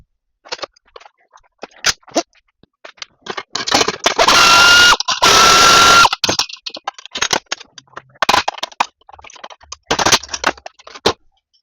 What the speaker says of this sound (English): All we're going to do is take these bolts out. You're going to need a 7/16 end wrench and ratchet